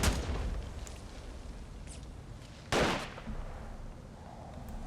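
Fully automatic weapons fire in an Iraq War 2003 game mod: bursts of gunshots with one loud, close report standing out among fainter distant shots, no talking.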